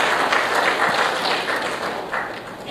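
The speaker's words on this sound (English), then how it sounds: "Let's have a round of applause for Mr. M. Thakur" Sustained applause from a conference audience at Air Cargo India 2016, greeting a government dignitary, the Joint Director General of Foreign Trade. Steady, dense crowd clapping throughout, fairly loud and continuous, with a faint voice underneath.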